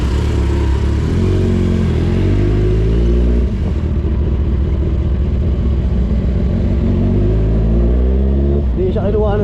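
A Kawasaki Z1000 R motorcycle engine runs close by, a loud steady low rumble with a slight rise in revs toward the end, heard beside a courier shipping office in Santa Rosa, Laguna.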